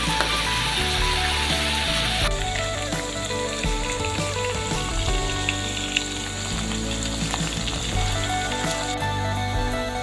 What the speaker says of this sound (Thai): ขออนุญาตทอดหมูครับพี่น้อง